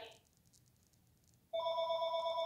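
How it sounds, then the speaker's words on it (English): After a short quiet pause, a telephone starts ringing with a steady electronic tone that is loud and close and continues to the end. "That's the phone ringing."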